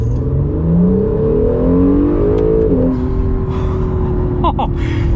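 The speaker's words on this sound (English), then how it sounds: "last acceleration before summing things up, and this thing likes to go into second gear" A new Acura NSX supercar engine revs up under hard acceleration, its pitch climbing steadily, then dropping at a quick shift into second gear before pulling again, loud and close throughout.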